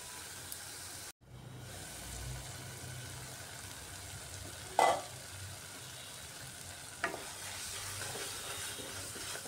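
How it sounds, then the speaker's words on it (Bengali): Chana masala spice paste fries slowly in oil over medium heat, a soft continuous sizzle with occasional stirring scrapes and a couple of sharp utensil knocks. "গ্যাসের আঁচটা মিডিয়ামে রেখে একটু সময় নিয়ে ধীরে ধীরে মশলাটা কষিয়ে নিতে হবে"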